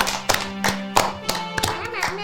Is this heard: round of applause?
yes